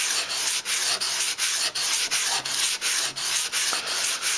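A kitchen knife is drawn steadily across sandpaper while being sharpened, a loud, close, gritty rasp repeating in even strokes about four times a second, with no voices.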